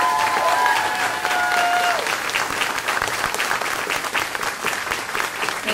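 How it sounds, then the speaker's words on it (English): Audience applauds graduating early college high school students, a dense steady clapping that stays loud throughout, with a brief whistle near the start and no speech. "get another round of applause"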